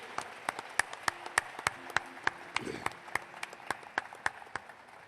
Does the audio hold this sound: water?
no